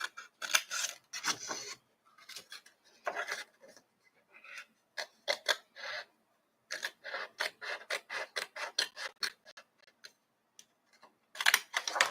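Scissors snip through paper card trimmed during a playing-card altering craft, a run of crisp rasping cuts in quick bursts with short pauses, close and alone.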